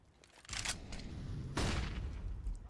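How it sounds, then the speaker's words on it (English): A Counter-Strike flashbang grenade goes off amid match chaos, two loud bursts in quick succession with a sharp bang followed by a sustained roar. "Nice flashbang from the teammates there"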